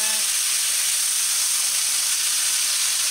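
Steak pieces browning in a hot pan for crockpot mushroom steak give off a loud, steady sizzling hiss that runs unbroken throughout, with no talking.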